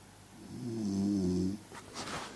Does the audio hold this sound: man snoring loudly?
yes